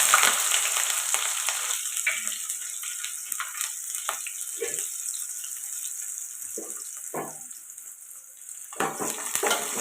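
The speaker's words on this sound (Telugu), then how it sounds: "ఇప్పుడు ఇవి ఫ్రై చేసుకుంటాం" Chopped onions and green chillies with cumin seeds frying in hot oil for a drumstick and cauliflower curry, a close, continuous sizzle with intermittent stirring scrapes and clatters throughout.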